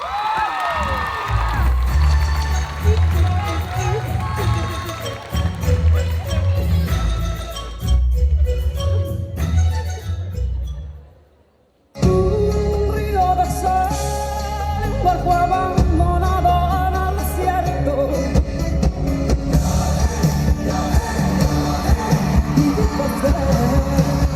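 Audience at a Saturday cosplay contest at Japan Addict Z 2023 applauds and cheers a contestant, a loud sustained roar of clapping and shouts over music, with a brief drop to near silence midway before the cheering resumes full.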